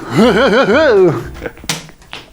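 A voice warbles a wavering, wobbly tone, then falls quiet before a single sharp crack of a pencil snapping and a few faint clicks.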